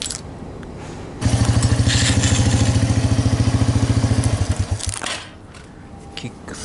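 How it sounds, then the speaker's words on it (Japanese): A Yamaha YD125 motorcycle engine kick-starts into life and idles with a steady, loud chugging for several seconds, then sputters and cuts out. "キックするとエンジンはかかる"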